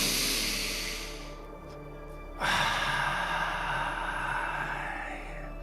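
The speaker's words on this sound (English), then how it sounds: "Nice deep breath." A person takes one slow, deep breath, a long airy inhale that fades into a brief pause, then a breathy exhale that continues to the end, heard close and fairly soft.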